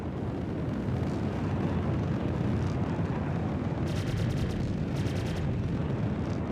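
Guns on an RSI Scorpius ship fire in the space game Star Citizen, heavy continuous rumbling blasts with two short bursts of rapid, crackling shots near the end.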